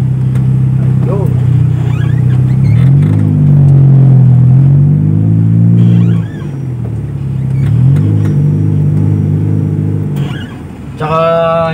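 A 1993 Honda Civic ESi with a manual gearbox idles and revs up close, its mid-pitched engine rising and falling in loud surges. A brief dip comes midway.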